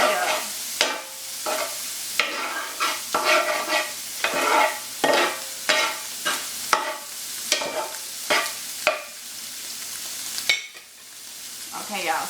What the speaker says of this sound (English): So I'm about to stir this meat up.